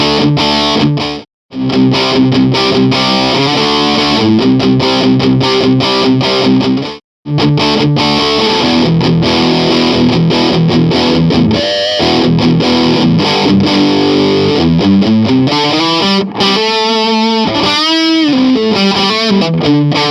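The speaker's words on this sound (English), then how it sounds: "let's go ahead and throw some distortion on there and see what it sounds like" Electric guitar with a humbucker pickup fitted with a nickel silver baseplate, played through heavy distortion: loud, bright, harsh chords and riffs across twenty seconds, with two brief silent breaks near the start.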